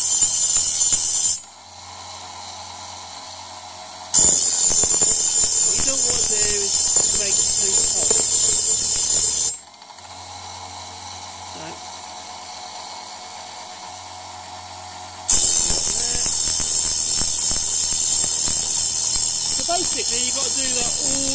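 A Berlan or Sealey TCT saw blade sharpener grinds tungsten carbide teeth with a harsh, high hiss in three long passes, broken by two short quieter pauses.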